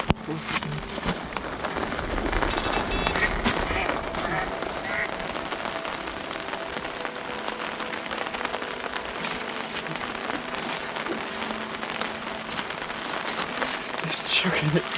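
Heavy rain pours steadily onto a shelter and the surrounding bank during a carp fishing session, a dense constant patter lasting the whole fifteen seconds, with occasional louder drips and faint movement nearby.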